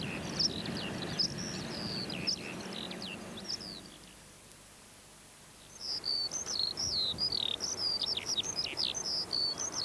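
Meadow pipit calls in open country, a series of thin, high chirps repeated in quick bursts, with a quiet pause in the middle before a faster run of calls, over faint insect background.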